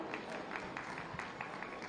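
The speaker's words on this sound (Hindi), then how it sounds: "आपके लिए जोरदार तालियां।" Faint audience applause at an Uttar Pradesh Day award ceremony, a soft sustained patter of clapping from a distant crowd.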